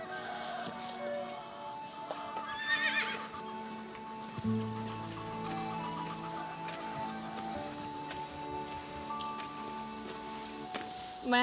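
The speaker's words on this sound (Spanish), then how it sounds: "le estoy dando agua a mi caballo" A horse neighs amid a busy period-drama scene with layered background sound and music-like tones, the whinny rising briefly near the middle before settling under the other noise.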